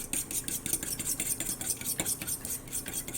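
A fork whisks milk into cinnamon roll batter inside a mug, giving quiet rhythmic scraping and light clinking against ceramic, steady and fast, with no talking.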